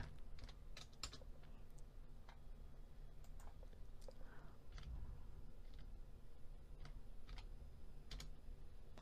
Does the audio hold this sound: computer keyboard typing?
yes